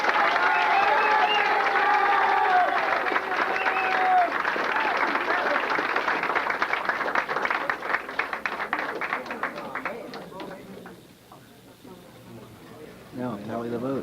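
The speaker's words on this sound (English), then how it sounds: "I'd like you to all give them a big round of applause." An audience at a local guitarist contest gives a sustained round of applause that stays loud, then thins into scattered claps toward the end, with some crowd noise mixed in.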